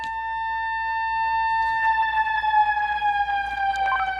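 A fire alarm siren sounds during a test of a PORV-type pre-action valve, a steady electronic wail with strong harmonics that drifts slightly lower in pitch. It is close and loud, with some clatter joining partway through.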